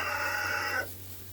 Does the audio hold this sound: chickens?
yes